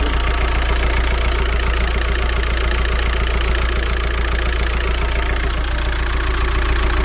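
A VW T5 van's 1.9 TDI diesel engine idles steadily after a thermostat refit, a loud, close, even clatter with a rhythmic knock throughout and no voices.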